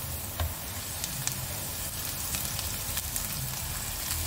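Chopped spinach hits a pan of sautéed onion and sizzles steadily, a dense frying hiss with scattered small pops and stirring scrapes.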